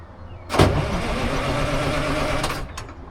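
A 1940s crane engine, idle for over ten years, turns over and catches with a sudden burst, then runs in a rough, rumbling idle close by before a few sharp knocks near the end.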